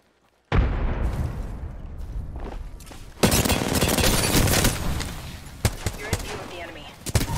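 Frag grenade blast and gunfire in Apex Legends: after silence a loud sustained roar of shooting, then a heavy explosion at about three seconds, followed by continued bursts and sharp pops with voices faintly underneath.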